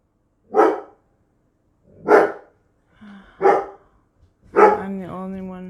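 A puppy named Sati gives four sharp barks spaced about a second or more apart, close and loud, the last one stretching into a high whimpering whine.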